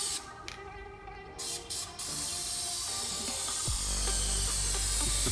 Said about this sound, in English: So we clear up the nozzle, just do a test spray.